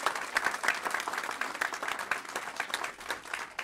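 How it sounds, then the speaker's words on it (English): A modest crowd at a city council meeting claps for student athletes, individual claps audible within a loose, uneven round of applause that rises and dips across its length. "Let's give them a nice round of applause."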